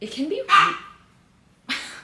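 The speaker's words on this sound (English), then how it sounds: "oh, he's barking. He has a weird bark." Dog barking outside a door, a single odd, rough bark plus a short cough-like yelp, fairly near, with someone talking just before.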